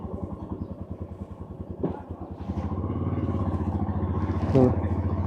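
A motorcycle engine cranks unevenly with rapid chugging pulses, stumbles, then catches and settles into a steady close idle.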